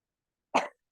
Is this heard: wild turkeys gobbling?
no